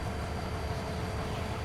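A train rolls along steadily in the farming game Farming Simulator 22, a continuous low rumble of engine and railcars with a dense, even noise that holds at a constant level throughout.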